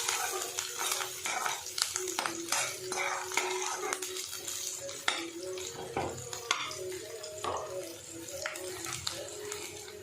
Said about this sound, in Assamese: আৰু অকণমান লৰাই দিম পিঁয়াজখিনি